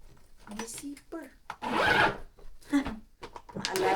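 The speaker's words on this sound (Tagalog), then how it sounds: "okay din to, Mars. May zipper." A zipper on a bag opens with a raspy, scratchy pull lasting about a second, preceded and followed by nearby talking and handling noises.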